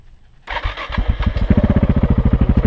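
A small engine cranks and catches, then settles into a loud, close, rapid chugging idle with a regular pulsing beat, likely a motorbike or small vehicle used for dog walking in rural Spain.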